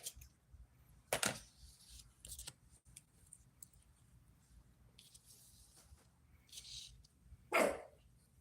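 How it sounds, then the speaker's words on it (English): A dog barks in a few sharp, separate bursts, one early and one louder near the end, with quieter scrapes and faint voices in between against a low background. "Dog's barking."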